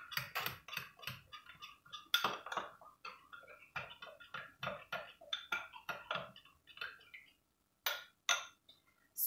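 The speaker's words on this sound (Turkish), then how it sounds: "Karıştıracağım." A spoon scrapes and clinks in a pan while tomato, red pepper flakes and black pepper are stirred into green beans, with a run of quick, close, fairly quiet taps and scrapes, a brief pause, then a few more.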